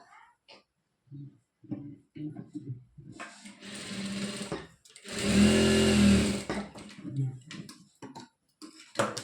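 A sewing machine stitches a churidar pant in several short stop-start bursts, then runs in one longer, louder steady whir before slowing again, with a person talking between the runs.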